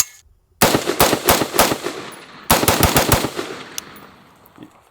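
A 5.56 AK rifle that takes AR magazines fires two rapid strings of shots, loud and close, each burst echoing off afterward.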